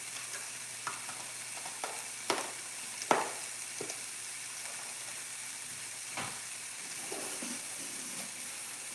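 A large batch of onions sizzles steadily in a pan at moderate volume, with scattered stirring scrapes and taps in the first half and no speech.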